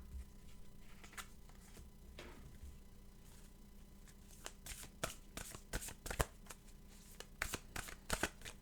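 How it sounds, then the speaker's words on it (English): Oracle cards being shuffled by hand, a quiet run of soft riffling and flapping bursts that grows busier and louder toward the end, close up with no talk. "let's get an oracle card"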